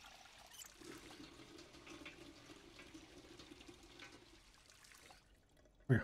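A kettle fills with water from a tap in the survival game Project Zomboid, a steady running and pouring stream that lasts about five seconds and then cuts off, with no talk over it.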